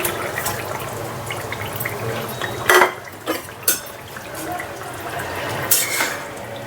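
Rohu fish going into a pot of simmering gourd curry, a soft bubbling backdrop broken by a few clanks of utensil against pot and a splash, close by with no talking.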